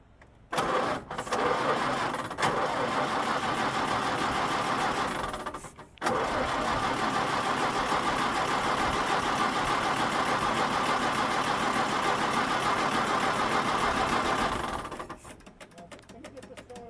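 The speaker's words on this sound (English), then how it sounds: "I'm going to have Andy go ahead and crank this thing over. See what it sees, see what it sounds like." A roadster's engine is cranked over by its starter in a long, steady, loud churning run that pauses briefly once and then continues for several more seconds without catching.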